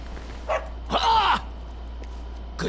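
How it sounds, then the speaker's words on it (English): A guard dog in the Dragon Quest XI video game gives a short bark, with one clear bark in the middle and a couple of softer yips around it against a quiet backdrop. "Good dog. Good doggy."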